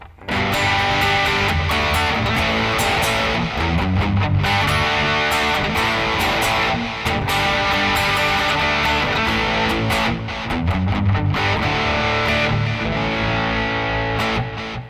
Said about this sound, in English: If I switch back over to my distortion patch I've set up with the MXR